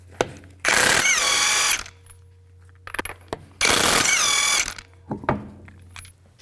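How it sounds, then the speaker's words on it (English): A power tool spins lug nuts off a 2004-2008 Nissan Maxima wheel with a 21 mm socket: two loud, sustained whirring bursts, each followed by metallic clicks and clatter, close up. "Take the lug nuts off."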